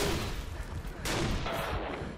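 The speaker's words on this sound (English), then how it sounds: "I'm getting shot by invisible people and I'm not liking it." Gunfire in the video game Gotham City Impostors: dense, continuous bursts of shooting and booms at loud level, with a sharper crack about midway and faint voices underneath.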